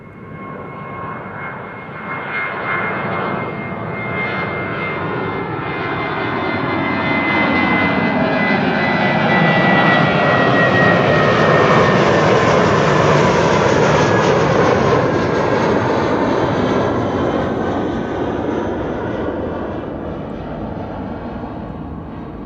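An airliner departs Amsterdam Schiphol for London Heathrow, a loud jet roar that builds, peaks mid-pass and fades as it climbs away, with no talk.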